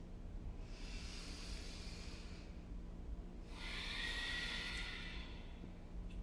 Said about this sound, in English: Hopefully you can hear my breath